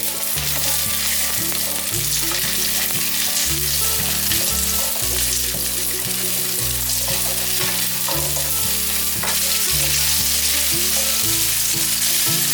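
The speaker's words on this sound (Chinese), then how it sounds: "锅内放入一些油，油热了之后，先把豆角放进来炒。" Green beans stir-frying in hot oil in a wok: dense, loud hissing sizzle continuing without break, with soft tossing and scraping under it, close up and without voices.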